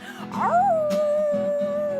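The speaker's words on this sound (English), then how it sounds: "that's Gina and BJ's new dog" A dog howls in one long, sustained note that rises and then holds steady, fairly close, over a low droning background.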